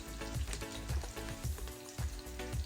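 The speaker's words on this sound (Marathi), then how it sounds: "ह्या दहा ते बारा मी लसणाच्या पाकळ्या चांगल्या चेचून घेतल्या आहेत त्या घालून घेते" Crushed garlic cloves fry in hot oil over a medium flame, a steady close sizzle with crackling pops and a few soft low thumps, with no talking.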